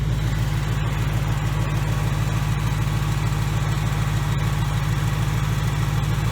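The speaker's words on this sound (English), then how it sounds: "We'll listen to the engine." A supercharged Whipple-equipped 2018 Mustang GT 5.0 V8 idles steadily and smoothly, a close, constant low rumble with an even pulsing beat and no voices.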